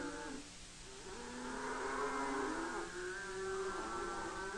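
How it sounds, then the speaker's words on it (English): A herd of half-wild cattle on a Paraguayan trail low in long, drawn-out moos that overlap at moderate distance against a faint steady background hum. "The cattle graze and rest during the night, but at daybreak, the herd is on the trail once more."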